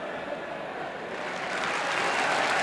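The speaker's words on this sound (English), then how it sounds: "generous round of applause for him" A 1978 football crowd at Upton Park, during West Ham v Derby, applauds a substituted player, distant, soft clapping that swells gradually louder toward the end.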